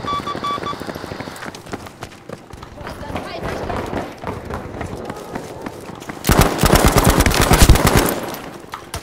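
An MG42 machine gun in Battlefield V lets off a loud, rapid burst near the end, after a stretch of footsteps and scattered game noise, with a voice talking over the action.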